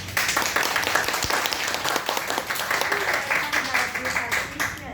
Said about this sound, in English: So I ask everyone to give you a round of applause